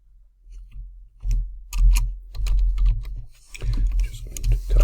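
Typing on a computer keyboard while coding an include line for a C header file in a MASM lab, with a few bursts of key clicks at close range and someone speaking over and between them.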